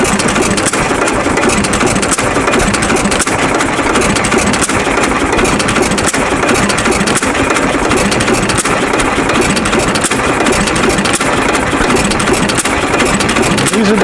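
A hit and miss engine runs steadily outdoors, a continuous loud mechanical chugging drone with a busy, noisy texture and no talking.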